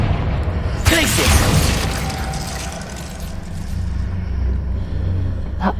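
Casting Glacius, the freezing spell in the video game Hogwarts Legacy, brings a sharp, loud burst near the start that settles into a low, rumbling wash of game sound, with a voice speaking.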